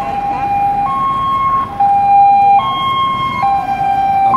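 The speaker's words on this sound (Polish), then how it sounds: "Jakaś karetka." An ambulance siren wails at a large intersection in Hohenau, alternating steadily between two tones for several cycles, loud and close over low road rumble, with no speech.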